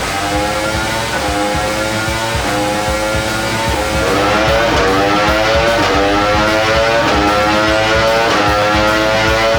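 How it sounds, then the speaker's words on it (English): A 2026 Aprilia RSV4 motorcycle engine running on a dyno during exhaust muffler testing: a loud, close, raspy engine note that rises and falls as the revs climb repeatedly, with a harmonic sweep stepping upward, and no talk over it. "We're testing different mufflers on the 2026 Aprilia RSV4."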